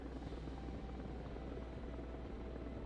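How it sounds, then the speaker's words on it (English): Mi-8 MTV helicopter in the Broken Arrow war game, a steady low rotor thrum with rhythmic blade chop, faint and constant throughout with no speech. "Helicopters."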